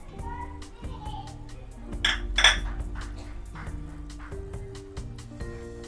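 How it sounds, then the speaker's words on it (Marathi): A spoon mixes chicken koliwada marinade in a metal bowl, giving scattered clinks and scraping taps with a louder cluster of knocks midway, over a faint background of children's voices. "आता हे सर्व मिश्रण जे आहे सर्व चांगलं आपल्याला मिक्स करून घ्यायचं"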